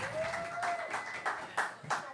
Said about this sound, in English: Another round of applause, please, for the wonderful Miko.